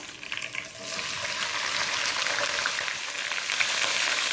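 Steady oily sizzle of onions frying in oil in a pan, loud and continuous, with occasional stirring clatter and pops.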